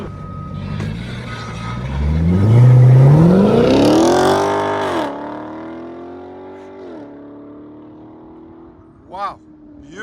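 A small BMW pulls away hard from a standstill, the engine note climbing quickly through the revs, loud and near, then falling away as it leaves. A voice is heard over part of it.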